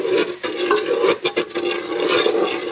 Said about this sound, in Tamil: சர்க்கரை கரையிற மாதிரி நம்ம கிண்டி விட்டுக்க வேண்டிதான்